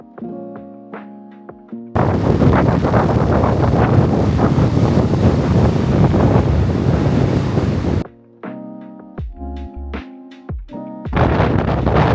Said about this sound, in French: comme vous pouvez le voir, il y avait énormément de vent